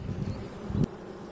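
Honeybees buzz steadily at a beehive with capped honey above, fanning near the entrance; a dense, close, continuous hum rises briefly louder near the end.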